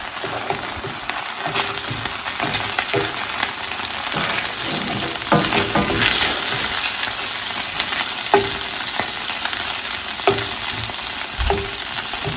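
Butter melting in a soup pot, giving a steady close sizzle and crackle with occasional scraping stirs, with no one talking.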